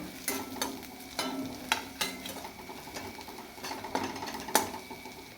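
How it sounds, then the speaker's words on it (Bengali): Fried onions and green chilies crackle in a pan, a soft continuous sizzle punctuated by sharp stirring scrapes and spatula knocks, close and fairly quiet, with no voices. "এর মধ্যে আমি কাঁচা মরিচটা দিয়ে দেব, দিয়ে ভেজে নেব"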